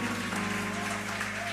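Congregation applauding during a Sunday evening church service in Lisbon, a brief continuous wash of clapping from a crowd with a sustained tone under it.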